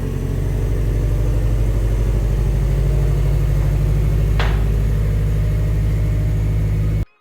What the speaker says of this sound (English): I'm gonna take it for a quick ride around the block